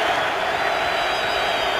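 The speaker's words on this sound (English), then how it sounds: "they're a vocal crowd here for the Rams" A stadium crowd at a Rams NFL football game makes a steady, loud roar and cheer, a continuous wash of voices with no break.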